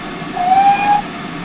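A short, clear steam whistle from GWR 7800 Odney Manor, a steam locomotive, sounds loud and close for about half a second over a low background rumble.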